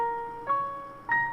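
A dry Kontakt Neue Peer piano pattern with no effects, three soft sustained chords struck at a slow even pace, each decaying quietly before the next, faint and alone.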